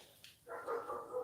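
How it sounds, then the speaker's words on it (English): Dogs in a home bark excitedly. One short, fairly faint bark or yelp rises briefly and fades with the background. "Dogs are going nuts for no apparent reason."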